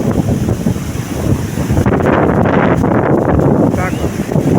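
Strong wind roars across a stormy sea, gusting steadily into the microphone with the rush of waves beneath, loud and continuous throughout.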